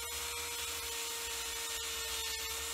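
A drill bores slowly and gently into a waggler float body, giving a quiet, continuous whirring hum with small irregular clicks and ticks as the bit works down the hole.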